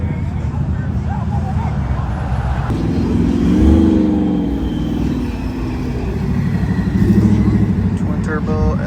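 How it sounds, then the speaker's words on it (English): Twin-turbo Ford F-150 single cab revving as it leaves a car show, a loud low engine roar that swells twice over steady traffic noise while people talk nearby. "Twin turbo F-150 single cab."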